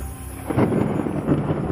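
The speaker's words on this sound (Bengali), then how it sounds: "ঠিক তার কিছুক্ষণ পরেই হঠাৎ মেঘের গর্জন" Low rumbling thunder rolling in two swells, deep and fairly close, with a soft hiss of rain beneath.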